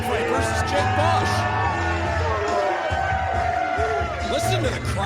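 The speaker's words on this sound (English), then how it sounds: "Listen to the crowd." Crowd at a Glory Pro Wrestling show cheering, yelling and whooping loudly and continuously, with a commentator's voice running over the din.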